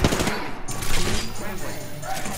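Rapid automatic weapon fire in an Apex Legends battle royale match rattles on loud and close in continuous bursts, with a voice speaking over it.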